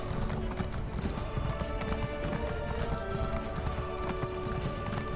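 Horse hooves clip-clop steadily in The Elder Scrolls Online, Morrowind, a quick continuous trotting rhythm heard moderately quietly, with an occasional faint whinny and no talk over it.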